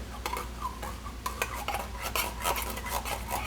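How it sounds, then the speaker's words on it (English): Metal spoon scraping and clinking against a pan while tomato soup is scooped in, a steady run of close, sharp utensil taps and scrapes over a low background hum, no talk. "take a spoon or something and put it right into the pan here"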